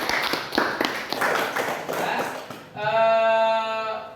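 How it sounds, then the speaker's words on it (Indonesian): Students in a classroom clap for about three seconds, a burst of dense, close claps, before it gives way to a sustained tonal sound near the end. "beri tepuk tangan untuk kalian semua."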